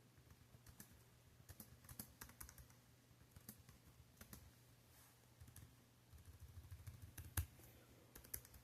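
Steady typing on a computer keyboard, quick irregular clicks running throughout at close range and moderate loudness, with a faint low hum beneath.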